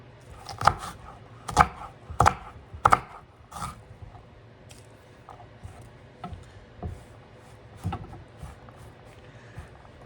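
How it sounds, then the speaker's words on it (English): Sharp knife chops strike a board in a quick cluster, then grow sparser and softer with scattered single taps. "I'm just going to take this and just roughly chop this."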